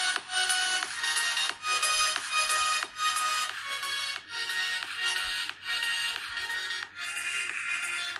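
A song streamed from YouTube plays through the speaker of a Redmi Note 10 Pro smartphone: bright, tinny music with a steady pulsing beat that runs continuously with no voices over it.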